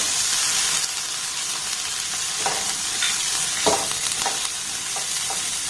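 Chopped onion and three green chillies frying in melted butter in a pan, a steady soft sizzle with several light scraping stirs across it, close and alone.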